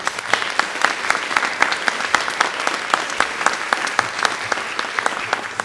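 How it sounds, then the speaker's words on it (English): Audience applause at the Fayette County Teacher of the Year 2021 awards ceremony, a steady dense clapping from a crowd filling the room, loud and continuous without pause. "please join me in a round of applause to show our appreciation to all of our sponsors"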